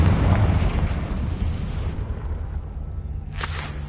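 A Confringo spell in Hogwarts Legacy bursts into a loud, heavy explosion that rumbles and slowly fades, followed by a brief sharp crack near the end.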